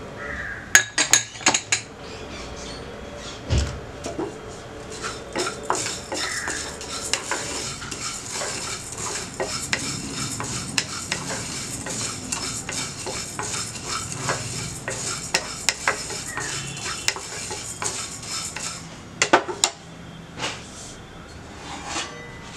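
Coriander seeds dry-roasting in a pan for rasam powder, stirred continuously, giving a long run of close, dry rattling and scraping with sharper metallic knocks now and then.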